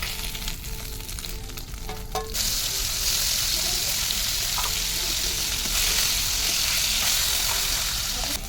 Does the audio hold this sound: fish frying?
yes